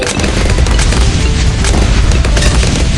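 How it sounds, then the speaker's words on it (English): A fire bomb explodes in the Bloons TD 6 video game, a loud, dense burst of booming blasts that fills the whole three seconds without a break. "Fire bomb! Incinerated!"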